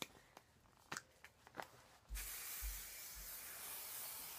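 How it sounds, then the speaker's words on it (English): Bedhead hairspray goes onto styled hair: a few soft handling clicks and taps come first, then a steady, close aerosol hiss that runs for over two seconds, with faint low thumps beneath. "give it a spray with my finishing spray, which I like to use Bedhead's hairspray"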